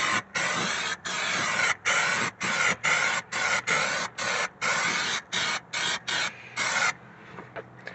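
Rubberized undercoating sprayed onto the underside of a 1966 Cadillac DeVille, loud close hissing in about a dozen short bursts separated by brief pauses, ending with quieter handling noises.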